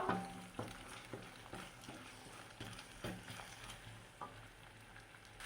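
Egg stirred and fried in a pan, a soft low sizzle under repeated light scrapes and taps of a spatula at a fairly steady rhythm, faint and close.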